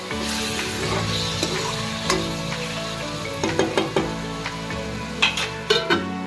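Peas with salt fry in a pan under a steady close sizzle, while a spoon stirs and scrapes with repeated clinking taps toward the end.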